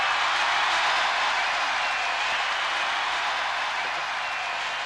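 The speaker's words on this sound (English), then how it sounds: "And listen to the crowd roar now," Steady roar of a large stadium crowd cheering for the home team of Bonn at a 1979 Jeux Sans Frontières game, a dense, continuous wash of noise that stays loud and even throughout.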